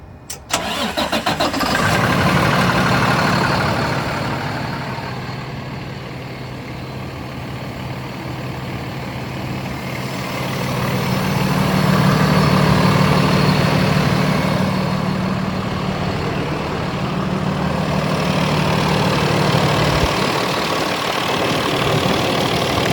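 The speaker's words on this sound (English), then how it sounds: "doing a cold start on the 2019 Freightliner EV350" A cold 2019 Freightliner M2 truck, unstarted for about a week, cranks briefly and fires up. It settles into a steady, rumbling diesel idle that swells slightly partway through and then drops off near the end.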